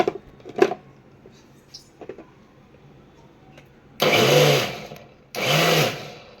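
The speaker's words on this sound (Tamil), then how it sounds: "இப்போ தக்காளி அரைச்சிக்கலாம்." Two loud bursts of a mixer grinder whirring as it grinds tomatoes, each lasting over a second with a short pause between, after some quiet kitchen clatter.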